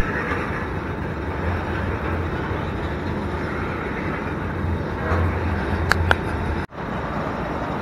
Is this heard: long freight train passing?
yes